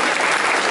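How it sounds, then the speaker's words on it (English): Applause from a magic show audience: a dense burst of clapping that fills the short moment at high volume, with no talk over it. "we're gonna need a give them all a round of applause, please."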